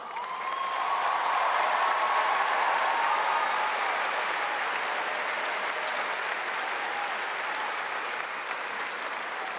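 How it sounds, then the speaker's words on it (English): Sustained applause from a large crowd at a high school commencement, steady and dense throughout, swelling slightly early on before holding at an even level. "Let's give this class a round of applause."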